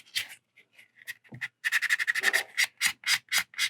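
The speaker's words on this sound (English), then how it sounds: "I'm just basically kind of just wiping over," Light wiping strokes over a resin Hyaku Shiki model kit part during cleanup, with short scattered rubs first, then a quick run of rapid, bright back-and-forth strokes, close and alone.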